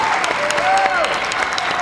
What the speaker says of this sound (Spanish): Un aplauso para Eduardo.